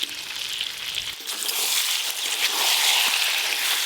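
Chicken with potato and papaya fries in a wok, a loud, steady sizzle that swells after a moment and keeps going.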